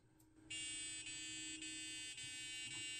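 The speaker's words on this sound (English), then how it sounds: "you could try something like changing the pitch of the beep as your lander gets closer" Steady electronic beep from a micro:bit ultrasonic sensor on a model planetary lander, a continuous bright high tone with faint periodic dips, close and loud with no talking.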